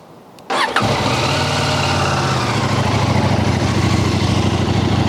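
A 2023 CFMoto 800MT motorcycle cranks briefly and fires up, then settles into a steady, close, loud idle with a slight exhaust rasp, no voices over it.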